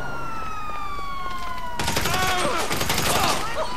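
Police sirens in the video game GTA 5, a wailing siren sweep followed by rapid bursts of gunfire crackling over continuing siren tones, loud and close.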